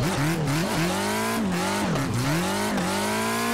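A car drifting in the Assetto Corsa racing game, its engine droning loudly and continuously with pitch swooping up and down as revs rise and fall through the slide, no voices over it.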